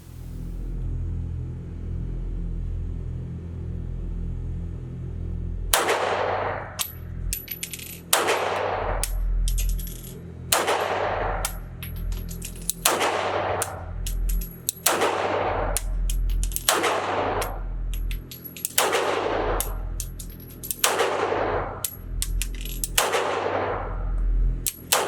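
Repeated pistol shots from a CZ 75 B Omega Tactical at a shooting range, about ten loud sharp reports spaced roughly two seconds apart, each with a short echoing tail over low background rumble.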